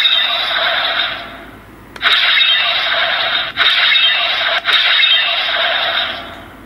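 Kamen Rider Saber DX Seiken Swordriver toy sword triggered after power-on, giving a loud, steady electronic hiss-like sound effect broken by a few sharp clicks and brief dips, with no talking.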